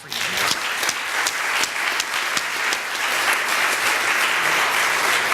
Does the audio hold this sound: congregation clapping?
yes